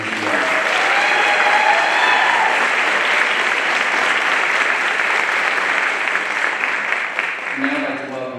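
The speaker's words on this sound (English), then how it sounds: "another round of applause for all the teachers in this field." An audience applauding teachers at a county Teacher of the Year ceremony, a dense sustained burst of clapping from a large crowd that holds steady for several seconds before tapering off.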